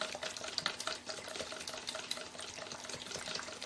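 Milk for homemade yogurt is whisked by hand, producing a quiet, quick run of light splashing and clicking strokes that keeps going steadily.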